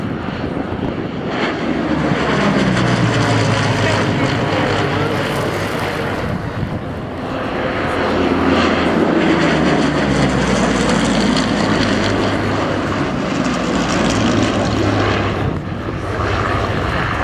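A Hawker Hurricane fighter plane flies past at an air show, its piston engine roaring loud and rising then falling as it passes, then swelling again on a second pass, with wind buffeting the microphone.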